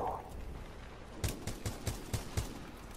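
Semi-automatic rifle shots in Titanfall 2 ring out as six evenly spaced sharp cracks in a steady rhythm, each punchy and close, after a quieter stretch of ambient game sound.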